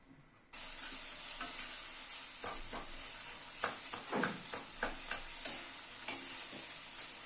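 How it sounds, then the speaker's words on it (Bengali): Spice paste slowly frying over a medium gas flame in a pan for a paneer and green pea paste curry, a steady sizzle with intermittent scraping stirs, close and fairly quiet, no voices. "গ্যাসের ফ্লেমটাকে মিডিয়ামে রেখে মশলাটাকে ধীরে ধীরে কষিয়ে নিচ্ছি"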